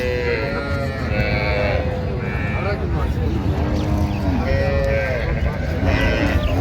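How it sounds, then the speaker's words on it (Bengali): A dairy cow and her calf moo loudly at a busy livestock fair (Raniganj haat, Dinajpur), with repeated drawn-out calls rising over a constant crowd murmur. "গাভী বাছুর আমরা দেখছিলাম এখানে"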